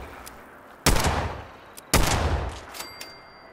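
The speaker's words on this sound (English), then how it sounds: "What are you shooting?" Two loud, close gunshot blasts in the video game Fallout 76, each one with a long echoing decay, about a second apart, followed by fainter clicks and a thin electronic tone.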